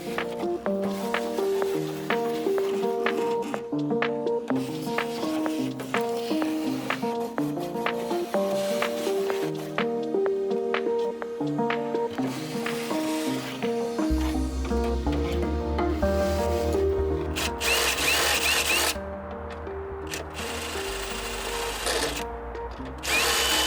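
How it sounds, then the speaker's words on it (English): A power drill spinning out bolts from a Land Rover Defender 90 seat box, rapid repeated whirring bursts with rhythmic pulses, close and loud, shifting to a deeper heavier grind near the end, no talk. "I've already got my drill on one of them"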